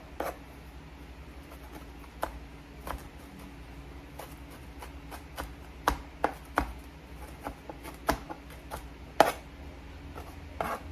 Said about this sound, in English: you can go ahead and strip some more and then chop it up as well